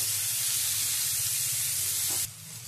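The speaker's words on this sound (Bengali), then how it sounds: "মাশরুমটা দিয়েও মাশরুমটাও ভেজে নেব।" Mushrooms frying in hot oil in a pan, a steady close hiss and sizzle that runs unbroken and then drops abruptly in level near the end, with no one talking.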